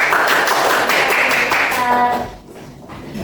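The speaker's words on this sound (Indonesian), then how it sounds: "Teman-teman kasih tepuk tangan untuk Putri." A classroom of students claps together, a dense burst of applause that fades out after a few seconds.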